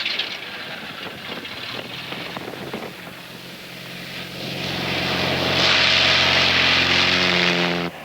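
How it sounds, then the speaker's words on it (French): Propeller airplane in flight, its engine drone rising and swelling louder toward the end with steady harmonic hum, no voices. "nous avons décidé de la poursuivre en pilotant un avion"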